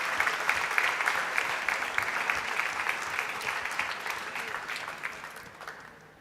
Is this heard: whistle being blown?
no